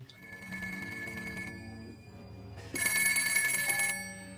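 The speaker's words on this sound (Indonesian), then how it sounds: "tiba-tiba, sebuah telepon berdering" A telephone bell rings in two bursts, the second louder and brighter, with a low hum underneath.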